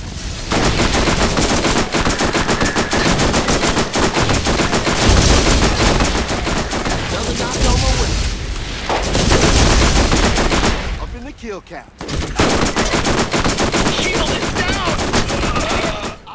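Sustained rapid turret gunfire in the Borderlands game, a dense continuous rattle of shots that briefly drops out before resuming, loud and close throughout.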